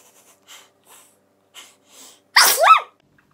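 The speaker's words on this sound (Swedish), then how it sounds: "snart måste jag nysa." A single loud, close sneeze from one person, a sharp burst with a trailing voiced tail, preceded by a few faint soft breaths and sounds.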